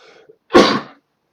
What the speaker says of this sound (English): And that was a sneeze.